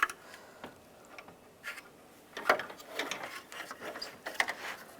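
Ratchet clicks from tightening bolts on the radiator fan assembly of a 1999-2005 Volkswagen Jetta, heard as light intermittent mechanical ticks and short ratcheting bursts, close and fairly quiet, with no talking.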